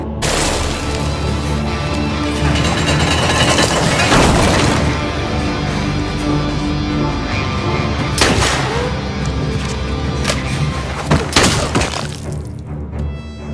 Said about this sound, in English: Seeing that triggered Elsa's anger and immediately made her shoot blindly